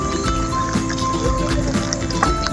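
Fast-flowing river seen from a bridge during stormy flood weather near Laguna lake, giving a steady, loud rushing wash of water with a constant background hum.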